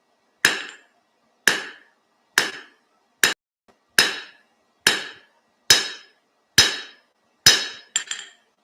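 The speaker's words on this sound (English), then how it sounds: "So I'm over the edge of the anvil. I'm trying to hit it exactly where that edge is." Hammer striking hot metal over the edge of an anvil while forging a small pair of dividers: nine sharp ringing blows at an even, roughly one-per-second pace, each decaying quickly, close and alone.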